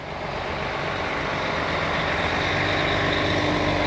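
A bus passing in the street near a park, a loud, steady engine roar that swells slightly as it goes by, with no voices.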